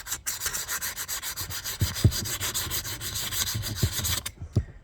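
An axe head is worked by sanding and filing, with a continuous close scraping rub broken by a few sharper strokes, then a sudden stop.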